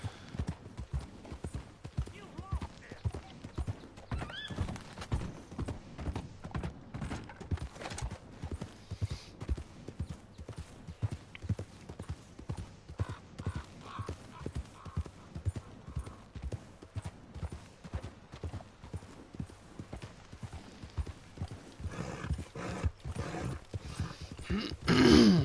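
Rapid clip-clop of a galloping horse in the video game Red Dead Redemption 2, with occasional snorts and brief speech, ending in a short high whinny.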